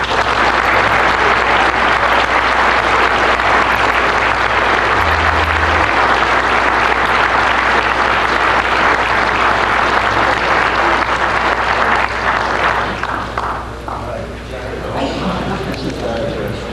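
Sustained loud applause from a large conference audience at a 1996 IEEE Region 5 awards presentation, dense clapping running unbroken for most of the stretch before tapering off near the end.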